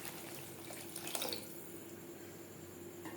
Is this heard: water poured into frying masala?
yes